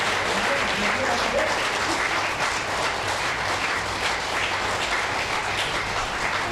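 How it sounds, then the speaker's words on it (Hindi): Audience applause at a monthly Hindi poetry gathering (kavi goshthi) in a hall, a steady dense wash of clapping lasting throughout at even loudness, with faint low hum beneath. "एक बार दोबारा से समवेत तालियां बजनी चाहिए"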